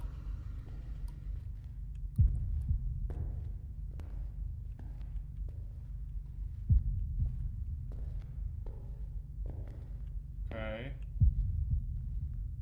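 A slow, deep heartbeat thuds as a low pulsing throb in the horror video game Deppart Prototype, with a few heavier beats standing out, while someone speaks briefly over it.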